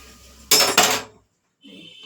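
A metal lid is set onto a cooking pot, giving two quick close clanks and a short ringing rattle before the sound dies away.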